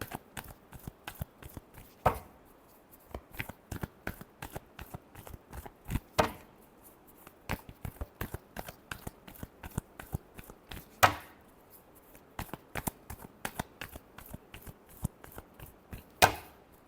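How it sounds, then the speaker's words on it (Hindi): Tarot cards being shuffled by hand for a reading, a long run of quick papery riffles and soft slaps, close and irregular, with a few sharper clacks and no talk. "Last shuffle."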